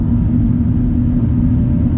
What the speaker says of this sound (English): here we go out on the road with the Alfa Romeo 4C.